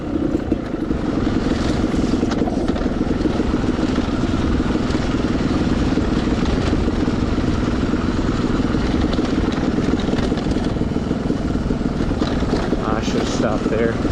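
Gas Gas 300 motorcycle engine running steadily while riding, a continuous loud drone with rough, slightly varying rhythm throughout, with wind and mechanical clatter layered in.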